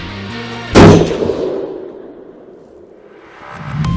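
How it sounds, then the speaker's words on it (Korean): A single sharp gunshot cracks out inside a hotel room, loud and close, then rings off in a long fading echo before some low background noise returns. "한 번에 짧은 총소리가 울려 퍼졌습니다."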